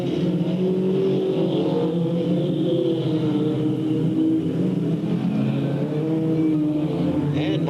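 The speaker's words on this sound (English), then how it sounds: "Both cars still running." Race cars roar around the oval at Delta Speedway in a 1997 stock car event, engines droning loud and steady with rising and falling revs as the pack circles without a break.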